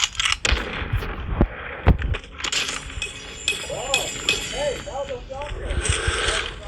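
Sniper rifle shots in a shooter video game, several sharp loud cracks in the first two seconds, then busier game sounds with a voice talking over them.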